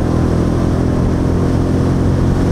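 A Royal Enfield Meteor 350 engine hums while the bike is ridden, a steady, even drone close and continuous throughout, with no talking.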